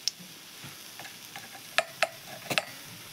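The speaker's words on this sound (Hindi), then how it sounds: "सुरसो चूड़े फुटेन दे दोछे।" Mustard seeds crackle in hot oil in a pan, giving scattered sharp pops and ticks. Several louder snaps come close together over a soft background sizzle.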